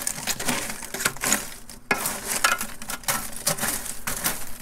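Ash is scraped out of a Kick Ash Basket in a grill, with irregular close scratching and gritty rattling strokes of metal on metal, uneven in loudness, with a short pause partway through.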